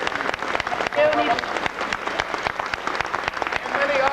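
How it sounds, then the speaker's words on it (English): An audience at a live stage show applauds, a dense, even wash of clapping that fills the whole moment, with a brief spoken word over it. "Doug, a nice round of applause."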